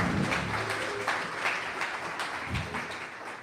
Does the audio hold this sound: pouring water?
no